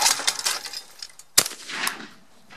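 A Fabarm XLR5 Velocity shotgun fired at a clay target with Winchester AA TrAAcker shells produces one sharp, loud report midway, set among rustling and softer thumps outdoors.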